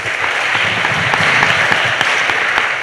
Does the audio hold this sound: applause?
yes